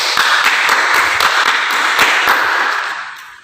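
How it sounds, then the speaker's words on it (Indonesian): Audience in a teacher-training classroom at Universitas Negeri Makassar applauds a discussion group, a dense, even wash of clapping with a few sharper individual claps that fades out near the end. "kita berikan tepuk tangan untuk kelompok B"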